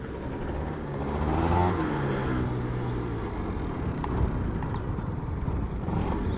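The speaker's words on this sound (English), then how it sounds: "Oh, the straight cut gears though. Sounds so good." A Yamaha BWS 100 scooter fitted with a Malossi 125cc kit and straight-cut gears, riding with a steady loud engine drone and gear whine that swells as it revs, with wind noise and no speech.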